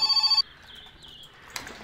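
An in-game telephone in My Summer Car rings in a short burst of rapid electronic trills, then cuts off, leaving faint background noise and a small click.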